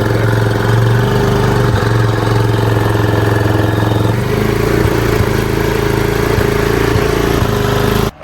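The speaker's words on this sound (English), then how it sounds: "Gotta get a four-wheeler out now." Four-wheeler ATV fitted with a DIY snorkel kit runs with a loud, close, steady rumbling engine drone, with slight changes in pitch partway through, cutting off abruptly at the end.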